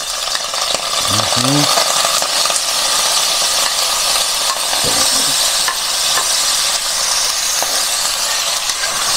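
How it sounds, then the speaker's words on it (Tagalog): Pork belly sears in a hot pan for pakbet, a loud, continuous broadband sizzle and crackle close up, with a few brief low clatters of the spatula against the pan. "Papulahin po muna natin itong ating pork belly."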